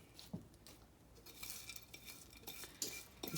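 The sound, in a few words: stirring crackers and butter into a chicken noodle casserole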